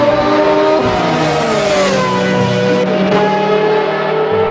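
Toy race cars, one of them green, give off a loud, continuous engine-like revving tone that rises and falls in pitch, heard close up with no one talking over it.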